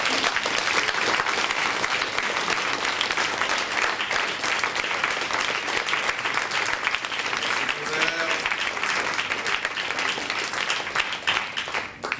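Sustained audience applause fills the hall at a youth literary prize ceremony in Vernier, dense steady clapping from a crowd continuing evenly with no voices standing out.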